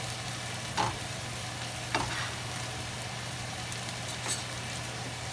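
An omelette frying in a pan, a steady soft hiss with three brief taps or scrapes spaced a second or two apart.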